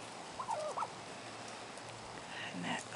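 Turkey gobbling at an outdoor feeding station, a couple of short, fairly faint gobbles early on and another rattling call near the end, set against quiet open-air background.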